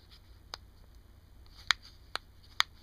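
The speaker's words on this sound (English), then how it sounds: "there is a clicking noise because this side doesn't fit together very well" Four sharp, faint clicks from a poorly fitting plastic case on an iPod Touch 2g/3g, spaced irregularly over a quiet background, the last three closer together.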